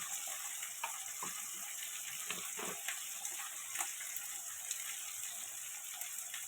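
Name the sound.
ground spices being sautéed in a pan for fish curry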